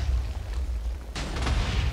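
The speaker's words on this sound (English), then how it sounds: "That was a pretty big explosion" A TNT blast goes off in Minecraft, a sudden loud boom with a rumbling tail that stays heavy until the end, alone without voices.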